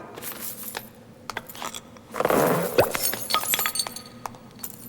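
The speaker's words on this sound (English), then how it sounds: "It clinks! There's something inside!" A small object clinks and rattles inside a set of bagpipes, with bright glassy chinks and jingles over a busy animated soundtrack background, with a few sharp metallic taps.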